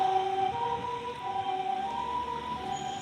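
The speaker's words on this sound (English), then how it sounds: "Give respect to the ambulance." A passing ambulance siren wails in a rising and falling electronic tone over steady street traffic noise, fairly near and unbroken for three seconds, with no one speaking.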